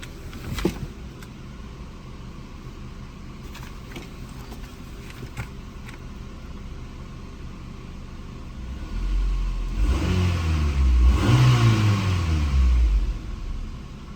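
A 1995 Honda Integra SiR II engine idles quietly with a few clicks, then revs up twice in rising and falling surges before easing back down, no talking.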